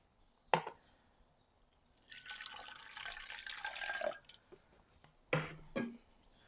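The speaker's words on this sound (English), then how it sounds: "Then I'm going to add my essential oils." Essential oils drip into a homemade cleaner bottle of half vinegar and half water: a single close drip, then a few seconds of trickling liquid, then two more quick drips, quiet and with no talk.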